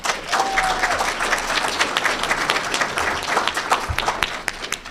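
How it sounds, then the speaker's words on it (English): An audience applauds an honoree at an annual award ceremony, with loud, dense clapping that holds steady throughout, a few cheers rising above the crowd. "So first round of applause, please"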